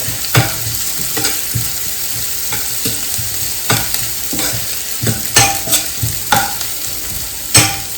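Onion frying in a pan gives a steady sizzle, broken by repeated scraping stirs and spoon knocks at an irregular pace, close and fairly loud.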